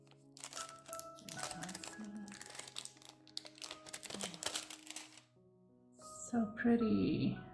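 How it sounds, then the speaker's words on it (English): Plastic wrap being pulled and crinkled off a Verdandi mini eyeshadow palette by Oden's Eye, with a slip-out sleeve. Soft crackling and rustling come in bursts under a person talking, then grow louder and denser near the end. "Get a plastic off of this one."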